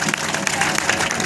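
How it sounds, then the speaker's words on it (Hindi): An audience at a devotional bhajan gathering claps for the musicians, steady loud applause from a crowd with a voice speaking over it. "जोरदार ताली बजाइए।"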